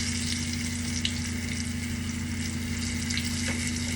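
Potatoes frying in oil in a pan give off a steady, close sizzle that holds unbroken for the whole stretch, with a faint background hum and no talking.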